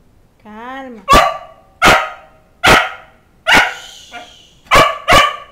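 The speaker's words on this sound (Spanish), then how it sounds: "Oye, no se ladra." A dog barks six times in sharp, loud bursts, preceded by a rising whine, with a short gap between most barks.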